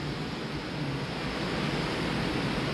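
Sea waves at Baler make a continuous broad wash of surf, close and even, with a slight wind-like rush.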